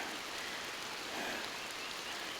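Steady rain falls continuously, a dense even patter on surfaces with no other sounds standing out.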